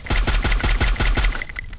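Rapid automatic gunfire in the battle-royale video game Free Fire, a loud burst of about eight evenly spaced shots followed by a few fainter pings as it trails off.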